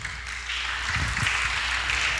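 Audience applause breaks out at a gathering, a broad wash of clapping that swells after the first half second and continues steadily, fairly loud and close.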